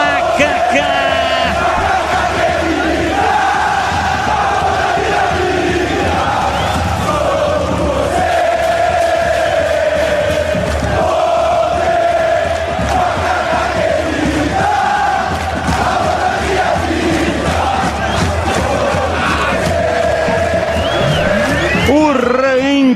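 Ponte Preta supporters chant in unison at the Moisés Lucarelli stadium during a Série C match against Anápolis, a loud sustained crowd song with rhythmic repetition filling the whole stretch and a commentator's voice blended in.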